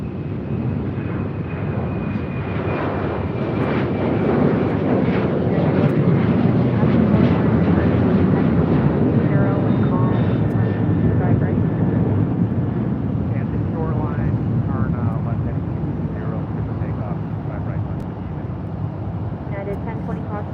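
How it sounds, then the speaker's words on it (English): Alaska Airlines Boeing 737-900ER jet at LAX, a loud, close engine roar that swells in the middle and then eases slightly, with a faint high whine running through it. "Alaska Airlines flight 1372 heading to Cancun on the 737-900ER."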